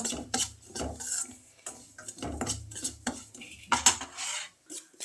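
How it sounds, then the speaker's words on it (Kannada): Semolina roasting in half a spoon of ghee in a pan for jackfruit payasa, heard as irregular scraping and clinking strokes of a spoon stirring against the metal, close and fairly loud, with short pauses between bursts. "ಇವಾಗ ರವೆ ಹಾಕಿ ಚೆನ್ನಾಗಿ ಹುರ್ಕೋಬೇಕು"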